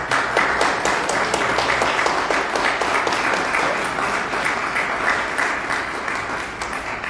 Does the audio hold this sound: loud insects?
no